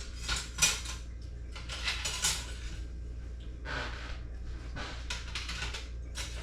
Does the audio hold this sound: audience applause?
no